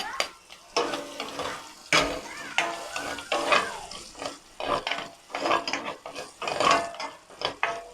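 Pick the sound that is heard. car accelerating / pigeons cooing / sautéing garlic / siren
sautéing garlic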